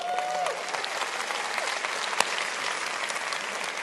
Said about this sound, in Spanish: Denles un buen aplauso.